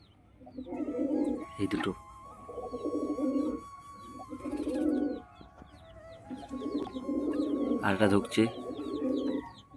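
Pigeons in a loft coo in repeated low, throaty rounds, close by, with a few sharper bird calls and flutters, while someone talks quietly between the coos.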